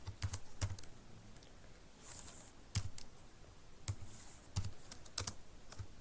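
HTML code is typed on a computer keyboard in quick, uneven bursts of light key clicks, with a few louder taps and short pauses between them, close and clear with no talking.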